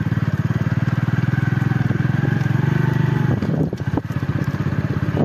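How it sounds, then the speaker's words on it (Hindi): A motorcycle ridden one-handed along a rough road gives a loud, close, steady engine drone with rapid pulsing, joined near the end by clattering bumps from the uneven surface. "एक हाथ से हम बाइक चलाना पड़ रहा है जो कि काफी मुश्किल है"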